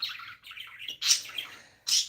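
Birds chirp and tweet in quick bright bursts, a busy run of calls followed by two louder, sharper squawks, heard clearly and fairly close with no talking.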